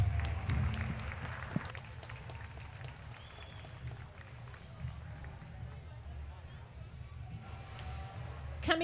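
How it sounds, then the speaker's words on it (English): Applause rises from spectators in a livestock show ring at a market lamb show, a steady wash of clapping mixed with low crowd rumble and scattered voices that continues through the whole stretch. "Let's give him a nice round of applause."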